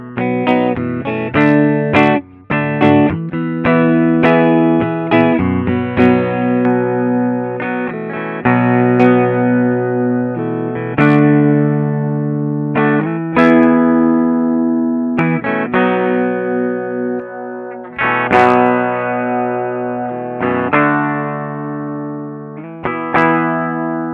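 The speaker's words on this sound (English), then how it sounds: "I have this guitar tuned up a full step. But it just sounds like a fairly okay Les Paul" Les Paul electric guitar tuned up a full step, played on a clean setting: continuous close chords and single notes ringing and overlapping, with frequent fresh picked attacks, steady and moderately loud throughout.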